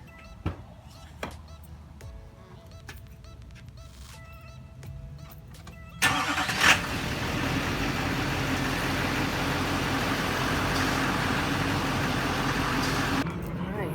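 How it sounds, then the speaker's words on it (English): A Duramax diesel 3/4-ton pickup turns over and fires up midway, then settles into a steady, close idle; before the start there are quiet clicks and interior chimes. "We're going to start off by starting the truck and turning our wheels all the way to the right."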